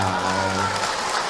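Brief audience applause for Ibu Ici at an Islamic religious talk, a short burst of crowd clapping that fades quickly with a low hum beneath.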